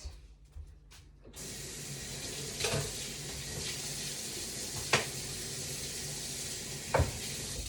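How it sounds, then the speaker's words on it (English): Running water from a sink tap hisses steadily while a plate is washed, with a few sharper splashes and knocks of the dish against the basin. "I'm going to go to the sink and I'm going to wash the plate."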